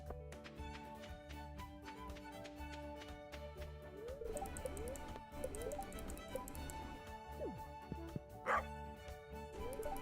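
An animal in a video game lets out a few short, sharp barks over steady background music, with one louder bark near the end.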